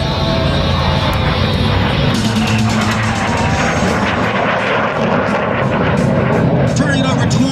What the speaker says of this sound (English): Exiting the min-rated turn, Mark will demonstrate the excellent maneuverability of the Alpha Jet